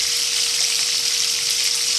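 Snapper frying in hot oil gives a dense, steady sizzle that stays loud and unbroken throughout, with no voices over it.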